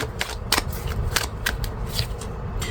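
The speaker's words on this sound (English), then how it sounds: "So give it another shuffle" Tarot cards being shuffled up close, a steady riffling flutter with a few sharper snaps, no voices.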